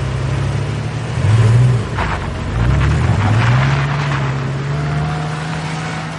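A car engine idles, then revs and pulls away with a steady, rising hum, close at first and carried under a wash of wind noise.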